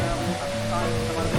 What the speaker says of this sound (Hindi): और ये वो वाटरफॉल बह रही है